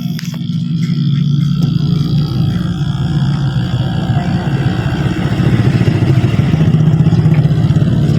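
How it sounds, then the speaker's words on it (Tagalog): A steady mechanical hum and rattle of a running air conditioner compressor, loud and close, continuing without pause. "yung tunog ng compressor lang."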